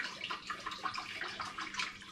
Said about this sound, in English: all I do is just give the Air Still drum a rinse with some clean hot water